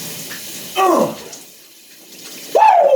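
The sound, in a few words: shower running with cold water, broken water heater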